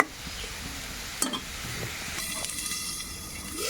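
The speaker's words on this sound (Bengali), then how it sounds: "চিংড়ি মাছ দিয়ে সুন্দর করে কষিয়ে নেব লাল লাল হওয়া পর্যন্ত" Shrimp frying with spices in a pan for a prawn, potato and eggplant curry, giving a steady close sizzling hiss with stirring scrapes and a sharper burst of crackle partway through, no voices.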